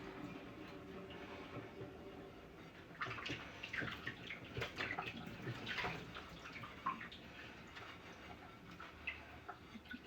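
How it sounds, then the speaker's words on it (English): A washed plate is rinsed in a basin of water: steady sloshing and splashing, quiet and close, growing busier partway through with no one speaking. "Now you rinse, put it in the water"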